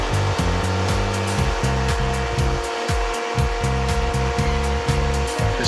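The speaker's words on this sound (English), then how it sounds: "Again, I go over to the blade runner to do that." A Blade Runner tabletop saw makes rough cuts to remove waste around the teeth of wooden gears, with a loud, steady motor hum and a rapid buzzing rhythm as the blade bites into the wood.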